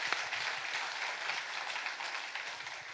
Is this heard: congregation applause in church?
yes